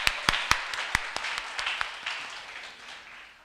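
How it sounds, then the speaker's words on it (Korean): A small group of teachers at a children's Bible school training session claps to encourage one another, a few sharp separate claps at first that thin out and fade over a few seconds. "우리 박수로 함께 서로 격려하도록 하겠습니다."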